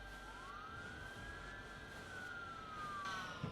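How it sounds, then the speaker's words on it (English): Police siren in the video game Retro Rewind, a single faint rising and falling wail held steady throughout, distant and alone. "Not the fucking police sirens playing right after that."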